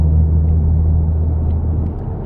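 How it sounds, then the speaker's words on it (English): Deep, steady low rumble of a 2014 Ford Mustang V6 fitted with a Roush exhaust, idling loud and close with a constant droning tone and no talk. "The Roush exhaust, it just makes it really loud."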